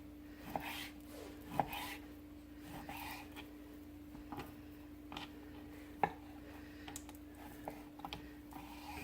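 Knife slicing beef on a board for Mongolian beef, faint irregular cuts and taps at a quiet distance over a low steady hum.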